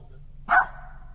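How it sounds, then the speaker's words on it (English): A single short bark from a dog outdoors, moderately close, standing out over a low steady background hum with no talk. "Okay, the dog came back."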